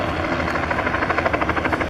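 Bell JetRanger 206 B3 helicopter with a loud, steady rotor whine and a rhythmic blade thump that pulses evenly throughout, no voices over it.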